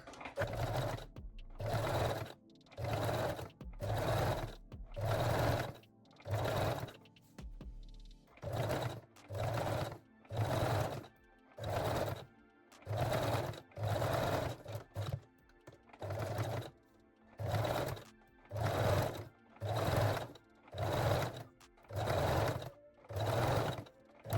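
A domestic sewing machine zigzag-stitching stretchy elastic along the leg openings of lace-back panties, running in about twenty short rhythmic bursts with brief pauses between them, close and clear with no talking.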